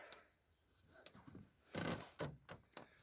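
An old camping cot creaks under a person's weight, with a few faint scattered creaks followed by louder, drawn-out groans and strains as the frame takes the load.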